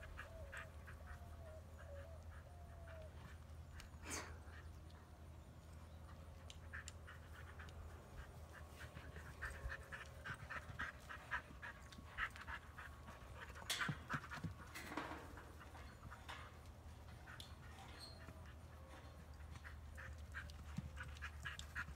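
A dog plays with a donkey outdoors, panting quietly and steadily over a constant low hum, with a few faint sharp bird-like squeaks and knocks scattered through it.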